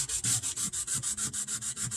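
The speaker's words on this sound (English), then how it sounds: "So, the idea of wet sanding" Wet sanding on a Luna Dragonfly acoustic guitar, a steady back-and-forth rubbing of about a dozen even, rhythmic strokes, close and clear with a soft hiss and no talking.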